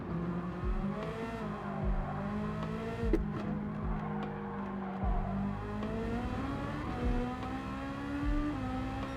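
A tuned Ferrari 458 Italia in a racing video game screams through a Nordschleife lap, its high engine note climbing and dropping through the gearshifts, steady and close with no voices.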